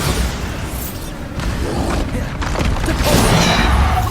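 Bombarda spell explosions from the Hogwarts Legacy game during a Keeper trial: heavy booming blasts and crashing thuds over a steady, loud rumble, rising toward the end.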